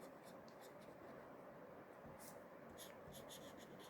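Writing on paper, a faint, quiet scratching of a pen with short strokes in irregular bursts, close by in a quiet room.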